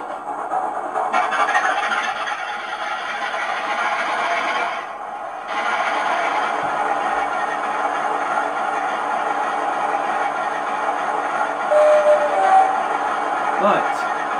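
Model railway diesel locomotive number 4711 starting up, a steady droning engine sound effect that dips briefly partway and then resumes, with faint higher tones and clicks near the end.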